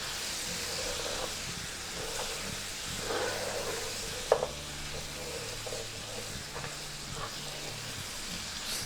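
Korma masala being stirred into korma frying in a pan, a steady soft sizzle and hiss with occasional scraping of the spoon and one brief clink of the utensil against the pot, no talking.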